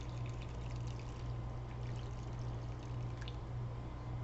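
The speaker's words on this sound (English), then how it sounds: "what broth I have in here, I'm just going to pour that over" Broth being poured over wonton dumplings inside a Tupperware Smart Multi Cooker, a steady soft splashing trickle that runs continuously and close without talk.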